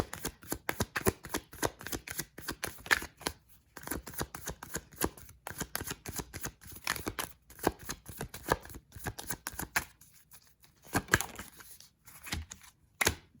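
Tarot cards shuffled by hand in quick, crisp riffling bursts with brief pauses between, close and fairly quiet, without any talking.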